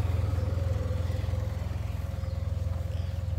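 SYM Maxsym TL500 scooter with a 465cc two-cylinder engine idles steadily, a low, even pulsing throb heard close up with no talking.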